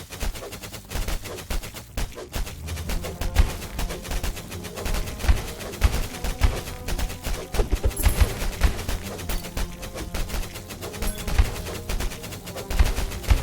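Video game Tower of Babel: Survivors of Chaos in play, with dense rapid crackling and popping bursts like fireworks or gunfire, continuous and loud throughout with no talking.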